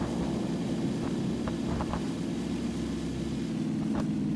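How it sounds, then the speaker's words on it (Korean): A propeller or jet airplane drones steadily overhead in a shooter video game, a constant low engine hum with faint scattered clicks over it and no talking. "좀 비행기 소리 들려요"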